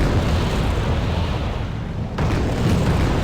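Dense, continuous artillery barrage in the war strategy game Wargame: Red Dragon, shells bursting close together into a loud, rumbling roar with no clear gaps, heavy low booms and crackling blasts piling over each other.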